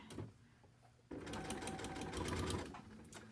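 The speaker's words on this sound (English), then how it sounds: "I'm just lengthening my stitch here so it's easier to rip the seam out." A sewing machine runs a long stitch along a seam on a paper-pieced quilt block, starting with a quick burst, then after a brief pause stitching steadily for about two seconds before slowing to a stop, close and loud.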